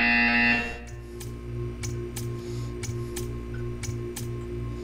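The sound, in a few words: buzzer in the video game Portal 2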